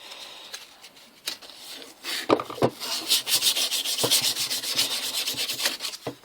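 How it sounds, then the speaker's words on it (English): Frets on an SG-style copy bass guitar are rubbed with 600-grit sandpaper during fret polishing, a close, brisk rasping that starts in sparse strokes and builds into fast, rhythmic back-and-forth scrubbing. "Place it over, bit of 600 grit sandpaper."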